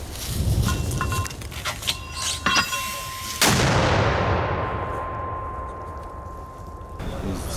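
A heavy mortar shot from an army brigade's mortar crew booms outdoors and rolls away in a long fading echo, with earlier distant thuds and rustling before it.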